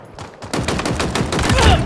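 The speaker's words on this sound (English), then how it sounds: "In a hail of gunfire." Rapid, dense gunfire from Halo Infinite during an online Capture the Flag match on the Forest map, loud and continuous bursts with game announcer cues in the mix.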